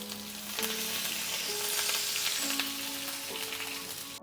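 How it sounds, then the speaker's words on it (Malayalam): Crushed garlic, curry leaves and sliced green chili frying in hot oil, a steady loud sizzle and crackle close by, with a few faint clinks of stirring and no speech. "ഇനി സെയിം ഓയിലിൽ തന്നെ കുറച്ച് ചതച്ച വെളുത്തുള്ളിയും വേപ്പിലയും സ്ലൈസ് ചെയ്ത ഗ്രീൻ ചില്ലിയും ഒന്ന് ഗാർണിഷ് ചെയ്യാനായിട്ടൊന്ന് ഫ്രൈ ചെയ്തെടുക്കാം"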